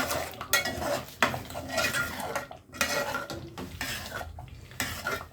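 Spinach with salt is stirred in a pan for palak paneer, a spoon scraping and clinking against the metal in irregular strokes over a faint sizzle, no talking.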